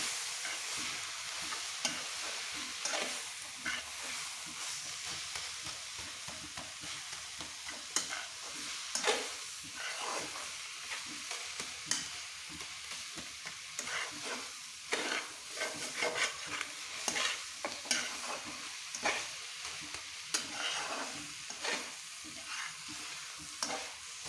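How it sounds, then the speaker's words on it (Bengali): Taki fish with pea shoot greens being stirred in a frying pan: a steady, fairly quiet sizzle broken by repeated scraping and clinking strokes of the spatula, with no talk. "দিয়ে ভালো করে আমরা শাকগুলো নেড়ে নেব।"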